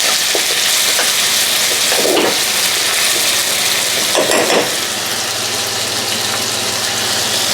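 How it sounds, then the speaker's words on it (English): A pot of lamb boils steadily on a gas stove, a dense continuous bubbling hiss with a couple of soft scraping stirs in the middle, close and even throughout. "The lamb's come to a boil there."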